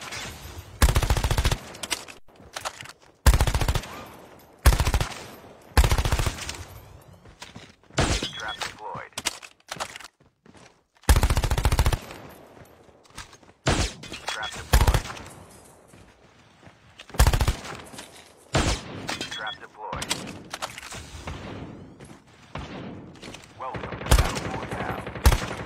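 Bursts of submachine gun fire in a shooter video game, loud sharp volleys with short gaps between them, some rapid and some single cracks, spread throughout with brief quiet moments.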